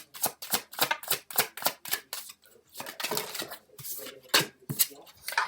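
Tarot cards shuffled in quick rhythmic riffles, a rapid run of crisp papery flutters and slaps close up, with a brief pause midway before more shuffling and handling.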